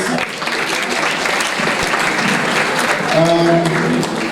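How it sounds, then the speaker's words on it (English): Audience applause for panelists at a political parties dialogue, a loud, continuous round of clapping from a crowd, steady throughout with some voices faintly mixed in. "Can we give all of our panelists a round of applause?"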